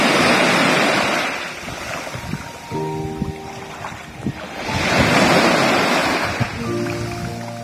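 Waves wash in at Thong Tanot beach on Koh Samui, a shallow shore, with loud rolling surges that rise and fade in slow cycles, mixed with wind noise on the microphone.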